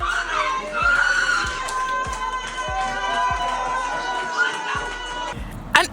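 Spectators at the Silverstone Grand Prix finish clap and scream in a sustained roar, with a regular thumping pulse underneath and a sharp burst near the end.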